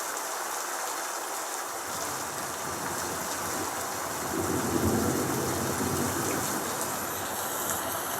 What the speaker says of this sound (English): So let's have rain and thunder.